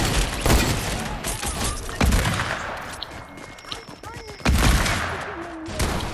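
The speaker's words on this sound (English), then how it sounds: "Lever action, please shoot faster" Lever-action rifle fire in Fortnite comes as loud single shots spaced a couple of seconds apart, each a sharp crack, with softer game sounds and faint talk between them.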